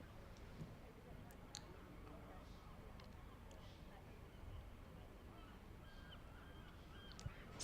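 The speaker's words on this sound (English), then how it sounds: "Seagulls. Lovely sound, isn't it?" Seagulls call faintly in the distance at a county cricket ground in Sussex, their short, scattered cries rising over steady background murmur and voices. The calls come irregularly, with a sharper one near the end.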